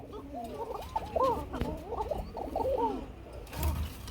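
A Bombay koka pigeon coos in a rapid run of soft, wavering calls, close and clear, over a faint background hum for a few seconds.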